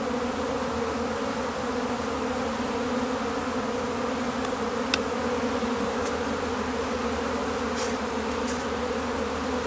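A smoked honeybee hive opened during a spring inspection in a beeyard releases a dense, continuous buzz from many bees, close and steady throughout with no talking.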